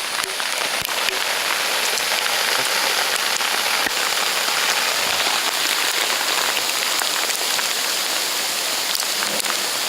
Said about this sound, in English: it's hailing, raining